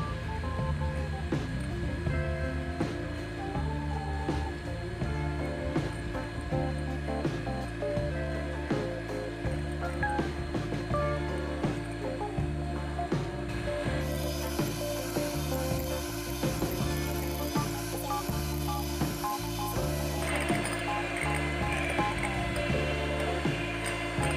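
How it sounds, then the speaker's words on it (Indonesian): An electric hand mixer whips putu ayu cake batter made with one egg until thick and fluffy, a steady loud motor whir with rhythmic rattling of beaters against the bowl throughout, the pitch shifting slightly partway through. "Kocok adonan sampai dengan mengembang dan kental"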